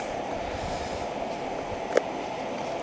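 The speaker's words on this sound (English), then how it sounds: "So this is the Lixada stove, gas stove." A Lixada gas stove burns on a small gas canister, giving a steady, close roaring hiss that holds level throughout, with one brief click near the end.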